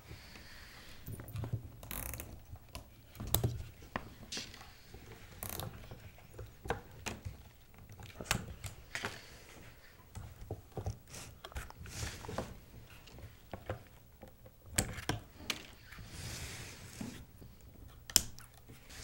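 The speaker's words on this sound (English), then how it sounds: "go ahead and either grab the scissors or the wire snips and cut off all your loose tails" Wire snips or scissors snipping off loose wire tails on a SeaPerch underwater robot build, heard as a scattered series of short, sharp clicks and snaps at close range over a quiet background.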